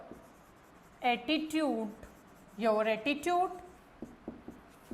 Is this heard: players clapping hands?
no